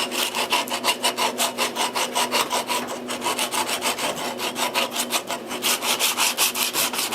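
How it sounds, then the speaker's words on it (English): Sandpaper rasps back and forth over the edge of a copper sheet in quick, even strokes, close and loud, with a short pause partway through. "I give it a few passes with the sandpaper"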